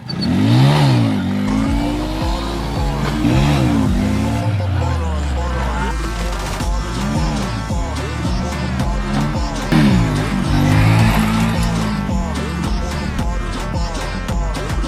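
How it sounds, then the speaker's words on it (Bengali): A motorbike doing repeated wheelies revs loudly up and down, its engine pitch rising and falling in swooping bursts. The sound stays close and continuous throughout. "গাইস এখন 2 নম্বর ক্যামেরা থেকে হুইলিগুলো দেখাচ্ছি।"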